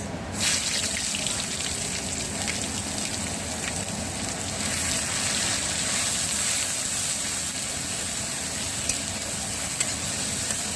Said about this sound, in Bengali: এখন দিয়ে দিচ্ছি আমি বেটে রাখা পেঁয়াজ।